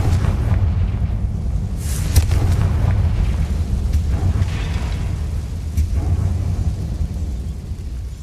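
A heavy, rumbling blast from the Confringo spell in Hogwarts Legacy fills the clip as a loud, sustained low roar with a few sharper pops.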